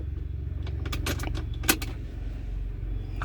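Keys jangle and click in the ignition of a Peugeot Boxer van as it is switched on, with a few sharp metallic rattles over a low, steady hum.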